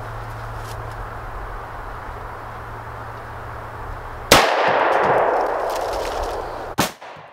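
A Bond Arms Defender derringer chambered for .45 Colt/.410 fires one sharp, loud shot into a can of stewed tomatoes after a quiet stretch outdoors. The report decays slowly, followed by a brief metallic knock.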